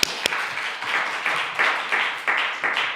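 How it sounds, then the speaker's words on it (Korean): Audience applause fills a church youth service, a steady wash of many hands clapping with a few sharper bursts rising and falling throughout. "박수"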